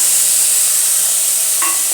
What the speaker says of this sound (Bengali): দিয়ে এটা একটুখানি ভালো করে ভেজে নিয়ে